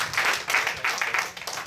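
Audience applause at a hackathon short-talk session: a brief burst of hand clapping from a roomful of people, moderately loud and uneven, fading slightly toward the end.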